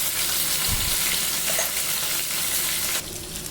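Potato and cauliflower fry in a pan for an aloo phoolgobhi sabzi, a steady broadband sizzle with a couple of low knocks early on, continuous and fairly loud, easing slightly near the end.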